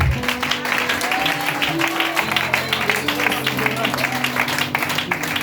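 Church congregation at a French-language revival seminar, applauding and acclaiming together with a steady wash of clapping. Sustained organ or keyboard chords hold underneath.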